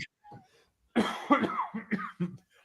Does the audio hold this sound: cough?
yes